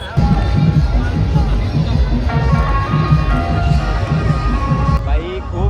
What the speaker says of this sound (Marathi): एवढी भयानक गर्दी आहे